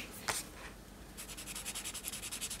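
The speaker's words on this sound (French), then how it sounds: "J'ai envie de colorier." A pen colors in a section of a paper budget sheet. After a couple of single strokes, a fast, even run of short back-and-forth scratches follows, close and fairly quiet, with no talking.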